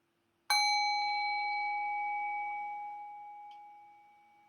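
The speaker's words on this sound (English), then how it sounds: "Allow the tone of the bell to guide your awareness into silence." A single meditation bell is struck once, ringing out with a bright, clear attack and a long pure sustained tone that slowly fades over several seconds in near silence.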